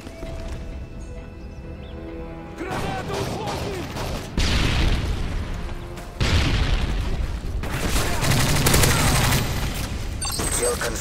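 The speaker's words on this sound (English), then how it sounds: "Grenade on fire!" Combat in Call of Duty: MW3 with a grenade blast and rapid bursts of gunfire, heavy booms layered over sustained loud firing, game voice announcements mixed in.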